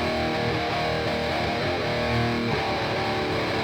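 Distorted electric guitar played through an Orange amp, a dense, saturated tone chugging continuously and loudly for a few seconds with no voices.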